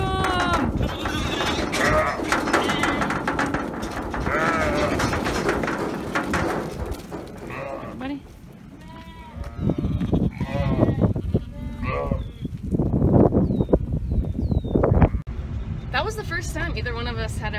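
A flock of sheep bleats repeatedly on a farm on moving day, alongside cattle, with many overlapping calls both near and far, and people talk in between.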